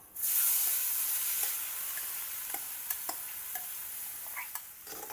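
Chopped onion sautés in Amul butter in a pan for street-style egg bhurji, a close, steady sizzle with soft scraping stirs and a few sharp crackles, no voices.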